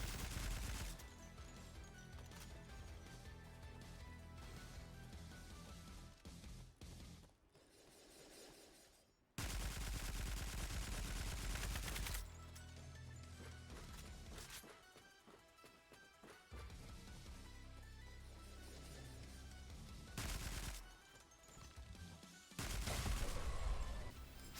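Gunfire in the video game Decaying Winter crackles in rapid, dense volleys over loud game music and effects. The shooting runs almost nonstop, with brief lulls in between.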